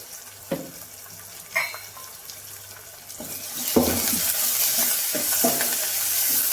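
Curry stirred in a frying pan, with a few distinct scraping clinks near the start and then a louder, steady wet sizzle and stirring noise that builds and continues to the end.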